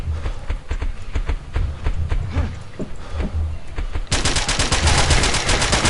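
Loud rapid gunfire in the BeGone video game, sparse single shots at first and then a fast sustained automatic burst crackling close and hard through the final seconds.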